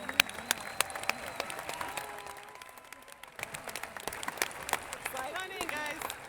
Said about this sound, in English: Let's give this amazing group a big round of applause.